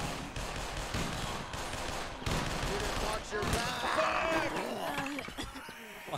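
Gunfire in the zombie shooter Zombie Panic, a steady barrage of game shots with a few sharper bursts over a busy mix of game sound, with talk in the background throughout.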